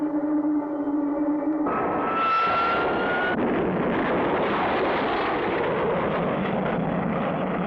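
A rocket in flight as its first stage is about to drop off, heard as a steady, loud engine roar that surges and thickens partway through, with a brief rising whine, continuing unbroken to the end.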